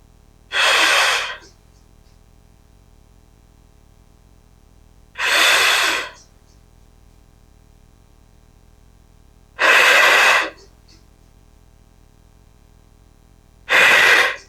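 Heavy breathing during a Pilates reformer exercise: four loud, forceful breaths about every four seconds, each lasting around a second, separated by near silence.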